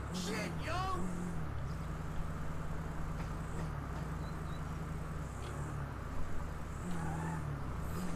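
A truck drives up onto an auto-locking car trailer, its engine a steady, close low hum throughout, with people talking over it.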